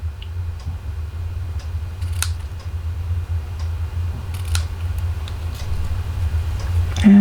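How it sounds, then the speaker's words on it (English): Scissors snip the ribbon tails of a small bow on a handmade stamped thank-you card: two or three short, crisp cuts over a quiet room hum. "I'm going to cut my tails."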